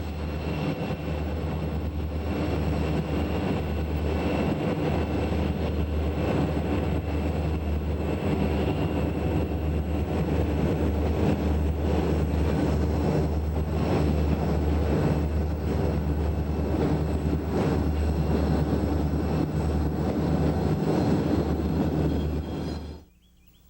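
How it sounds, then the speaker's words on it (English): Chicago and North Western locomotive number 6810 rumbles southbound over Pine Bank Trestle on the Monongahela Railway, a loud sustained roar of diesel engine and rolling cars with a deep low drone that holds steady before cutting off. "C and NW number 6810 heads southbound over Pine Bank Trestle"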